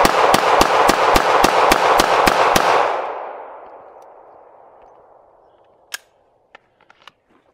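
An M&P 2.0 pistol fires about ten sharp shots in a fast, even burst at a 7-yard outdoor range. The shots are loud and close, with a long fading echo and a few faint clinks afterward.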